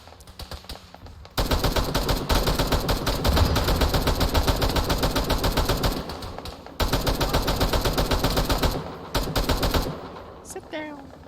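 Mounted turret machine gun in a video game fires long sustained bursts, loud and close, with brief pauses between strings of rapid rounds and a short gap near the end.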